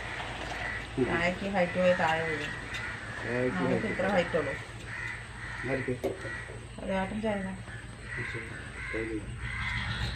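Harsh crow caws repeat in bursts across the clip, fairly close, with people talking over and between them.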